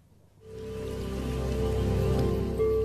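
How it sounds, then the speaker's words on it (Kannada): Torrential rain in a hilly forest rises in after a brief quiet moment into a steady, dense downpour that hisses evenly and grows slightly louder toward the end. "ದಿನವಿಡೀ ಸುರಿಯುವ ಧಾರಾಕಾರ ಮಳೆ ಗುಡ್ಡ ಪ್ರದೇಶದಲ್ಲಿ ಹರಿಯುವ ಜರಿ ತೊರೆಗಳು"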